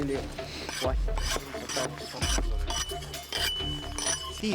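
Blocks of clear ice rub and clink against one another, with dense, continuous scraping and grinding and sharp glassy clinks throughout, close and fairly loud.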